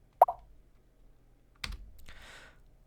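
A single computer keyboard key is pressed to draw a triangle in a geometry software program, giving a sharp close click followed by a quieter second click and faint rustle.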